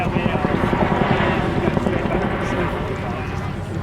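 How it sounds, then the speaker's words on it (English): An RAF Chinook twin-rotor helicopter flying a display at Cosford Airshow, its heavy rotor thump and engine roar loud and continuous under a commentator's voice. "the mighty Chinook continues to get the job done"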